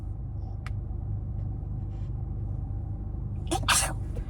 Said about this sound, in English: I think I have to sneeze, y'all.